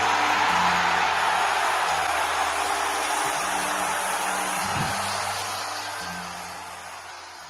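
A dense Madison Square Garden crowd at a WWE Monday Night Raw show roars for John Cena, a loud, sustained wash of cheering that gradually fades.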